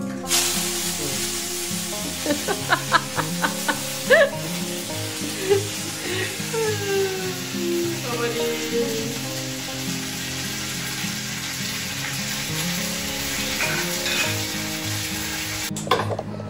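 Curry leaves crackle and sizzle in hot oil in a pan as they are stirred, a loud continuous frying hiss with occasional scrapes and pops, close up and without speech.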